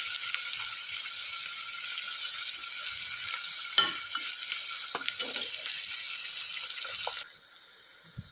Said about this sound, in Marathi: कांदा आपल्याला चांगला परतून घ्यायचा आहे।